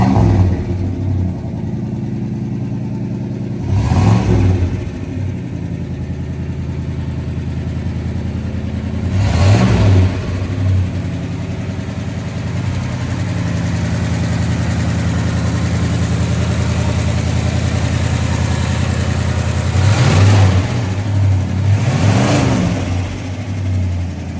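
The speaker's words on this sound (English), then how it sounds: "This car runs and drives just like it should." A 1968 Oldsmobile 442 V8 idles with a deep, steady rumble, close and loud, broken by several short revs that swell and settle back to idle.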